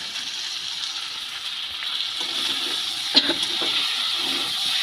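Prawns sautéing with young jackfruit in a pan, a steady even sizzle with a brief stir or clink partway through, close and unbroken, no voices.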